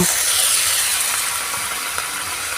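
Hot spice paste for a thin catfish curry hisses and sizzles loudly as a little water hits the pan, a bright steamy burst that settles into a steady fizz.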